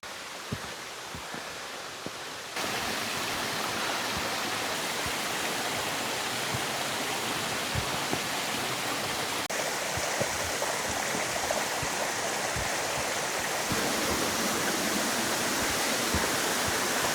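Continuous rushing water of a mountain stream flowing over rocks after rain, steady and fairly loud, with no voices.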